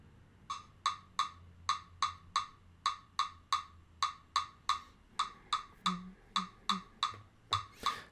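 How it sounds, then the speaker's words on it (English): Steady sharp metronome app clicks at an even tempo in 7/4, accents grouping the beats 2, 2 and 3, clear and close with a quiet background. "there's a way to get this rhythm pattern on a metronome"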